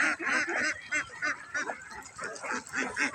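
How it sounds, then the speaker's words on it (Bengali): Thousands of baby ducks crowded together, their massed quacking and honking calls overlapping in a continuous, close, busy chorus with no speech. "এগুলো সব বাচ্চা হাঁস"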